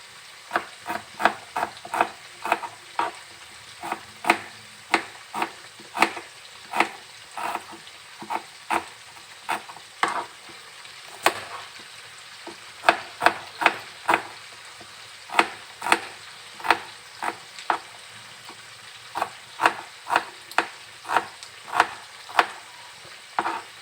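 Repeated sharp crackles and spatters of salted fish frying in a pan, popping in irregular bursts over a steady low sizzle, close and fairly loud, no talking.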